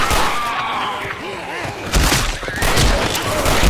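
Dense, continuous gunfire from the Left 4 Dead video game, with rapid overlapping shots and bursts, mixed with players talking over it.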